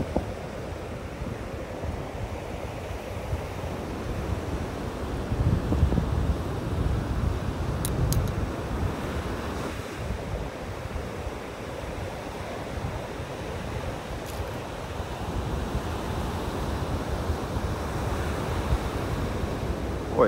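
Wind gusting across a beach in North Naples, Florida, a broad steady rush that buffets the microphone, with the low wash of surf rolling underneath for the whole stretch.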